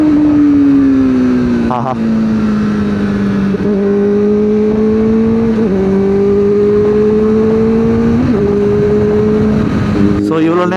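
A Kawasaki ZX-4RR motorcycle rides along a road with a loud, steady engine drone that dips and climbs through several gear shifts. Rushing wind sits underneath, and a voice briefly exclaims.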